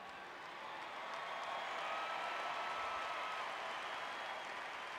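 An audience applauding after a senior speech, a sustained wash of many hands clapping that swells within the first second and holds steady, moderately distant and without talk.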